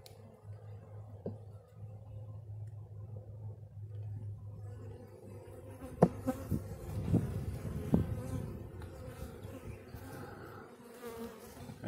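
Honeybees swarm and buzz around an open Saskatchewan nuc hive, making a continuous close hum. Louder passes of individual bees flying near sweep through the middle and later part.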